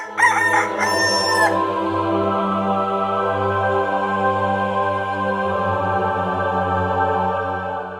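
A rooster crows loudly and close at the start, its call rising then trailing off within the first second and a half, followed by sustained tonal music or droning background that carries on to the end.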